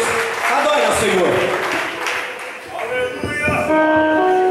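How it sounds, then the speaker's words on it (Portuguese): A church congregation claps together during Pentecostal worship, the applause spread wide and sustained under a mix of voices and sung tones from the room. "Aplauda ao Senhor. Um aplauso lindo."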